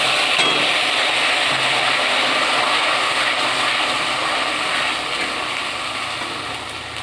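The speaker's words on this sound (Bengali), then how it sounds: "ওই তেলেই গোটা গরম মশলা তেজপাতা সাদা জিরে ফোড়ন দিয়ে আমি মশলাগুলো একে একে সব ছেড়ে দেবো বাটা মশলাগুলো দিয়ে দিচ্ছি" Whole garam masala, bay leaf and cumin seeds, then ground spice paste, fry loudly in hot oil for a poultry curry, a thick continuous sizzle, close and steady, fading slightly toward the end with no voices.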